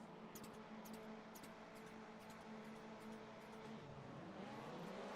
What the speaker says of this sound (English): We're revving it up, waiting for the lights.